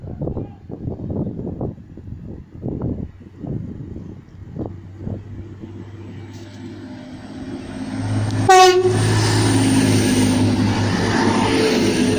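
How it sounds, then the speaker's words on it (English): A Transpennine Express Class 185 unit, number 185129, departs Northallerton, its diesel engine rumbling and building before a single loud horn tone sounds near the end, then a sustained roar of the train passing close by. "Departing as a 1644 Transpennine Express service to Liverpool Lime Street."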